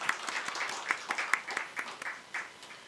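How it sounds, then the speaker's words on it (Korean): A church congregation claps at a New Year's Day Sunday worship service, a brief, moderately distant round of applause with uneven individual claps standing out. "우리 박수로 네 하나님께 영광 돌리면서 또 수고했다고."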